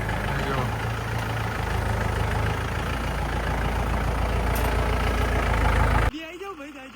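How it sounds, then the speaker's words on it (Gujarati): A tractor engine idles at a farmhouse with a steady low rumble, loud and close, cutting off abruptly near the end. "હવે આ ટ્રેક્ટર ચલાવવાનું ટ્રાય કરી રહ્યો છે"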